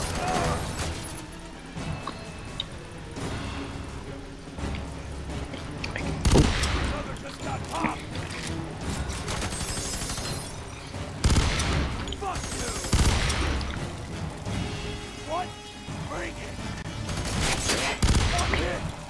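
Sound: gunfire in the video game F.E.A.R. 3

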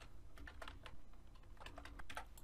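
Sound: typing code on a computer keyboard

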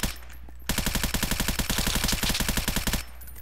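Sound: gunfire in a video game

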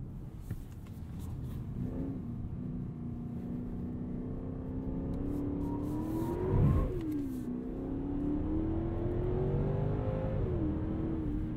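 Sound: Genesis G90 car accelerating and shifting gears

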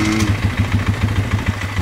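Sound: old vehicle engine starting and idling after carb drained

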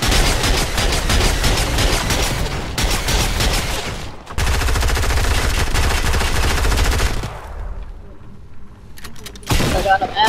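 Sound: machine gun fire in a video game

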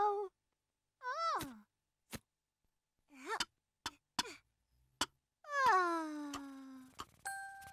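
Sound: cat in a children's cartoon

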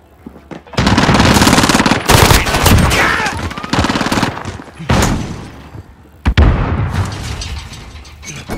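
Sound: gunfire from a heavy-recoil gun in Call of Duty: Modern Warfare video game

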